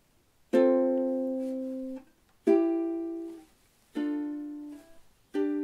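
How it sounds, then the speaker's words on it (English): Four ukulele strings plucked together as a chord, four times at slow, even intervals, each left to ring and fade before the next. "I'm just sort of plucking all 4 strings like this."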